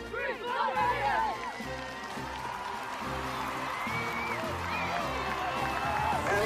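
Youth baseball team of California All-Stars cheering together before a game, a loud crowd of young voices shouting and whooping at close range, sustained with scattered claps and overlapping talk.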